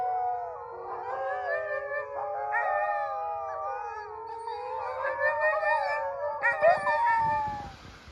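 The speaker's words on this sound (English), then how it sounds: "Dogs are howling." Sled dogs on a winter trapline howling together in a layered chorus of long rising and falling wails, with some yips mixed in, fairly close and sustained.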